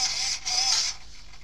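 Servo on a Traxxas Slash mud boss RC car whirring with a thin, high buzz in two short bursts, close and isolated, fading to quiet hiss.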